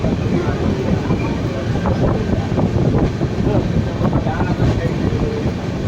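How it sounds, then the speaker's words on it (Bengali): The Howrah-Radhikapur Kulik Express with new LHB coaches rolls past Mankundu station, heard from on board as a loud, steady rumble with rhythmic wheel clatter and wind buffeting throughout. "এখন ক্রস করছি মানকুণ্ডু স্টেশন"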